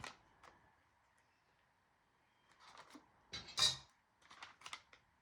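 Scissors snip through recycled kraft paper in a quiet room, a few short crisp cuts in separate bursts, the middle one louder and sharper, with silence between.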